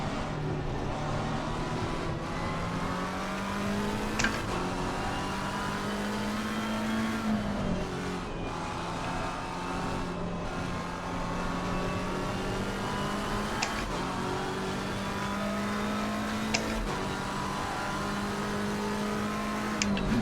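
A McLaren GT3 race car engine in the racing game Assetto Corsa Competizione drones steadily at high revs, with brief shifts and pitch rises throughout and no talking over it.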